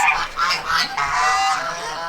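Geese honk in several loud, nasal calls from a pen shared with chickens, ducks and turkeys, the honks overlapping in quick succession close by with no talking.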